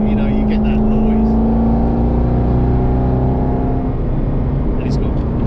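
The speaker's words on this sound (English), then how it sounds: "when you accelerated up there, I felt like I'm at Goodwood, at the revival, hearing a V8, American V8" Aston Martin Vantage GT8 V8 engine pulls hard under acceleration, a loud continuous droning growl heard from inside the car, holding steady before easing slightly near the end.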